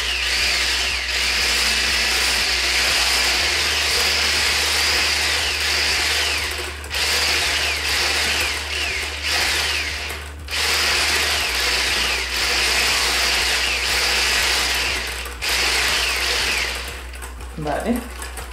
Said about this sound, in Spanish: Y ahora con la batidora nos vamos a ayudar a mezclarlo.